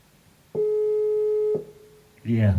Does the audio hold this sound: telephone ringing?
yes